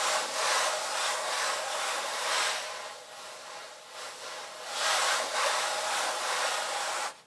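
A hand rubbing back and forth across a canvas sanded smooth on one side and left rough on the other, giving soft, close, hissing scrapes in a steady rhythm of repeated strokes with no voices.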